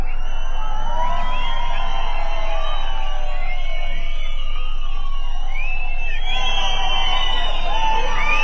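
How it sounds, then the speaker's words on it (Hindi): Rally crowd in Hamirpur welcoming a speaker with loud whistles and cheers, several shrill rising and falling whistles sliding over a noisy background of clapping and shouting voices, continuous and near. "हमारे यहां स्वागत करते करते ताली के साथ सीटी भी बजा के स्वागत कर देते हैं"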